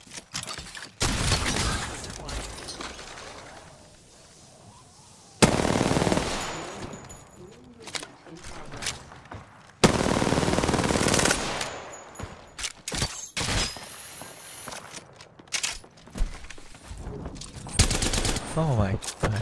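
Bursts of automatic gunfire in the video game Apex Legends, rapid loud rattling volleys with abrupt starts and stops, alongside impacts and other game effects.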